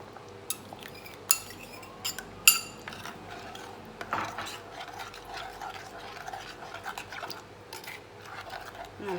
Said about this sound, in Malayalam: നല്ലപോലെ ഒന്ന് ഇളക്കി യോജിപ്പിച്ചെടുക്കുക